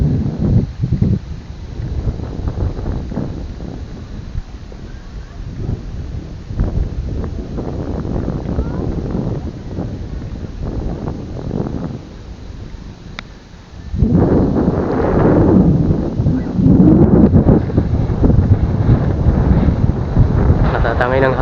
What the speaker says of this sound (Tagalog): Natatangay ng hangin yung ano, lure natin.